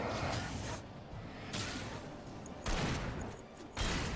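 Pump-action shotgun in Alan Wake fires several spaced, sharp blasts, each with a brief decaying tail, heard fairly faint over a dim game ambience.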